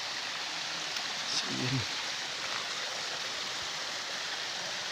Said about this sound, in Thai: น้ำไหลเนาะ